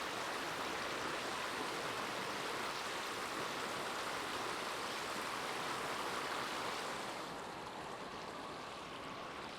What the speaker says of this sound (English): Quite a lot of waterways flowing down into the drain.